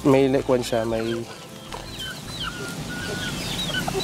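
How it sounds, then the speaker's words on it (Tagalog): Rhode Island Red chickens, young birds close to a kilo and part native blood, clucking up close for about a second with short harmonic calls, then a softer mix of farmyard chirps and background noise. "Ito yung bagong bili ko lang din na Rhode Island Red"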